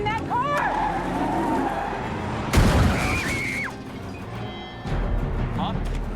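A car charges in with a loud tire skid, then a heavy thud or crash midway, with engine noise and film-style effects around it; a voice speaks briefly over the action.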